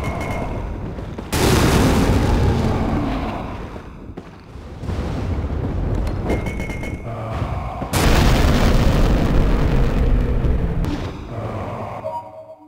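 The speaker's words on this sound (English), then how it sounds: "Yeah, that's what the grenades do." Grenade blasts in Resident Evil: The Umbrella Chronicles, two loud booming explosions several seconds apart, each a sudden heavy burst that rolls and decays into rumbling debris noise.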